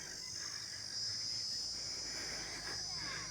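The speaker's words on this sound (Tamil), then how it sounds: "எனக்கு தெரிஞ்சு பொன் வண்டு தான் இப்படி கத்துன்னு நினைக்கிறேன்" Steady high-pitched insect calling, thought to be a jewel beetle, a continuous buzzing trill that holds without a break across the whole stretch, moderately loud over faint background noise.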